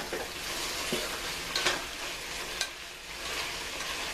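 Onions and garlic sizzle steadily in a pan for spaghetti sauce, a continuous close frying hiss with a few light scrapes of a spoon stirring.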